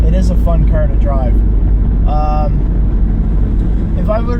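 A 1987 Fiero's engine idles with a low, steady rumble close by, while people talk over it throughout.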